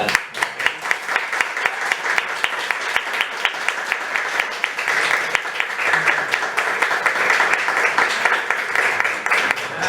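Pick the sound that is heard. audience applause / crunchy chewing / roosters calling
audience applause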